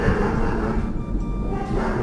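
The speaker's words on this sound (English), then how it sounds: "And you can hear my dog in the background." A long-coated German Shepherd barks somewhere in the background, muffled beneath a dense, steady rushing wash of storm noise.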